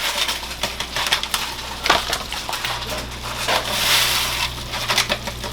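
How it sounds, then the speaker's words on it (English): Marinade pours and splashes in bursts onto chicken with pineapple for jerk chicken, with crackly, sloshing textures and short pauses between pours, close by. "So I'm gonna go ahead and pour this in."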